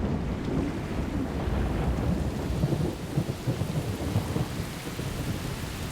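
Heavy rain with rolling thunder during October's short rainy season at Katavi on the Katuma River, a steady dense downpour with low rumbling swells, no voices.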